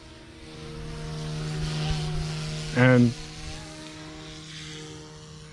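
A Fly Wing 200 micro RC helicopter flies with a steady, even rotor whir holding throughout, and a brief louder burst near the middle as a voice says a single word.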